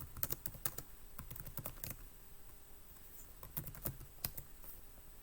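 Fingers tapping on a computer keyboard, quiet bursts of rapid key clicks with short pauses between runs, close and soft with no talking.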